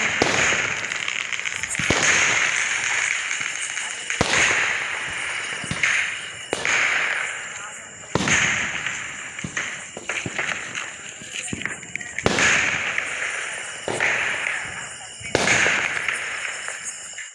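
Diwali firecrackers burst in a sharp series of loud cracks, roughly every one to two seconds, over a constant noisy background.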